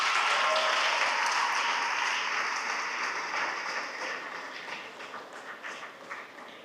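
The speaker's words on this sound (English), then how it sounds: "Let's just give another round of applause for Pauline." Applause from an audience at a ceremonial exhibition opening at a school fills the room loudly, then slowly fades and breaks into scattered individual claps.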